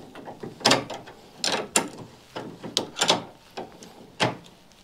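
Kart caster nut being tightened with a spanner while an Allen key holds it, a series of close metallic ratcheting clicks and clanks in uneven bursts.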